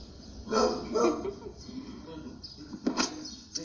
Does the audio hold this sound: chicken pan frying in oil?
no